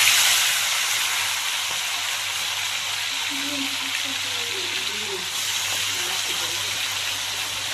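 Marinated chicken goes into a hot pan for a thin chicken curry and sizzles with a loud, steady, broad hiss that fades slightly after the first moment. A voice talks faintly underneath.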